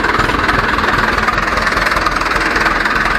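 A car engine idles close by with the hood area exposed, a constant loud rattling chug with steady vibration and a slight knocking tick, unbroken and without voices.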